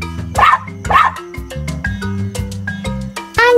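A dog barks twice in quick succession, loud and close, with short yips and whimpers after it over steady background music.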